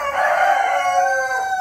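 A splash-coloured rooster crows once in a loud, sustained, slightly falling call that fades out near the end, close by and alone.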